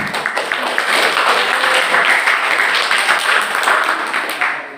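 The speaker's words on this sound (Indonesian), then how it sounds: "Baik, tepuk tangan." A seminar audience breaks into applause, a loud close round of many hands that swells quickly, holds, then tapers off at the end.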